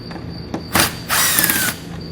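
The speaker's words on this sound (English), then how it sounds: "we're going to grab a T15 Torx bit, and we're going to pull all 6 fasteners out" Power driver with a T15 Torx bit backing out grill fasteners on a 2018 Chevrolet, heard as close, loud whirring bursts: one short spin, then a longer sustained run with a rising squeal, alone over a steady background hum.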